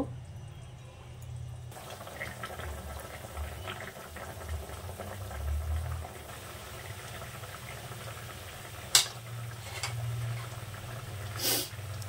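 Two bhola fish simmering in a curry with peas over a lowered gas flame, a low steady bubbling burble running throughout, fairly faint, with a couple of brief sharp clinks near the end.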